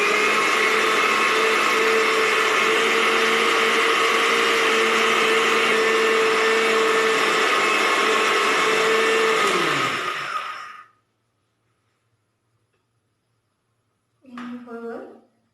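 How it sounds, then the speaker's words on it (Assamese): An electric grinder blends tomato chutney ingredients with ginger, a loud steady whirring roar that slows and winds down, followed by silence and then a brief short burst of the motor again. "এতিয়া এইখিনি ধুনীয়াকৈ গ্ৰাইণ্ড কৰি ল'ম।"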